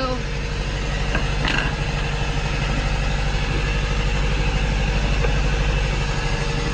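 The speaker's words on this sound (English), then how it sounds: "We are motoring right now." A sailboat motoring along the Maine coast under engine power, its engine giving a steady low idling rumble throughout, close and even, with a brief knock midway.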